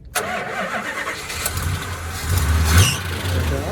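A 1970 Plymouth GTX with a 440 V8, Hemi mufflers and a new H-pipe cranks and fires up close by, then settles into a loud, rumbling idle with a brief rise in revs.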